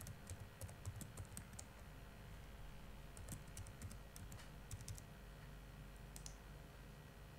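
A username being typed on a computer keyboard, with a steady run of soft, quick key clicks in irregular bursts over a low background hum.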